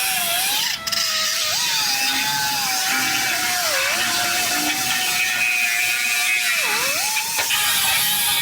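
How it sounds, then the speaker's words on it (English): A Jeep frame cross member being cut in half with a loud, steady, high-pitched power saw or cutting tool that runs continuously. The pitch dips briefly a few times as the blade bites into the steel. "I'm just gonna cut this cross member in half and get this out of the way"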